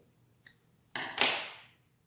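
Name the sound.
scissors cutting yarn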